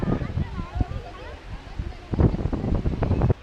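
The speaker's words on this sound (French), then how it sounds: "il y a du vent, il y a du sable là" Gusty wind blows sand through a garden in Algiers, buffeting the microphone with rough, uneven rumbles while a person talks over it.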